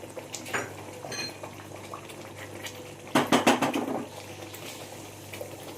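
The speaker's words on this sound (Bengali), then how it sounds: "একবার হালকা হাতে এভাবে কড়াইটা আমি নাড়িয়ে দিলাম।" A metal kadai holding surmai fish curry rattles and clinks in a short burst of rapid knocks as it is gently shaken, preceded by faint scraping and a low kitchen hum.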